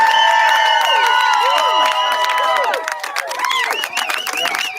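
A crowd of a couple hundred people cheers up close and loudly, with overlapping whoops, yells and rising shouts that stay dense for several seconds before thinning slightly.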